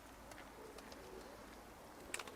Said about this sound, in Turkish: 500 tane kuş vardır burada.